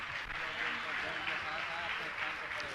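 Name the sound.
audience applause, clapping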